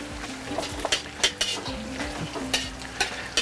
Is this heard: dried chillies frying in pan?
yes